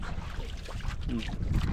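A low, steady boat motor rumbles with wind buffeting the microphone and faint water noise, continuous throughout.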